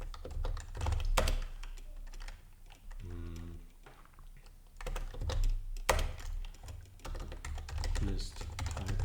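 Typing on a computer keyboard, bursts of quick key clatter with pauses between them, close and fairly soft, with someone speaking intermittently over the keys.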